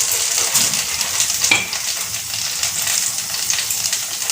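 Long beans (barbati) sizzle in a little oil in a pan, a steady bright hiss that runs close and continuous, with a few soft stirring clinks breaking through.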